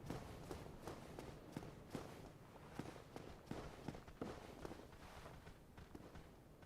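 Footsteps in Dark Souls, a steady series of soft thuds at a walking pace, faint and somewhat distant, with no clear direction, over a low ambient background.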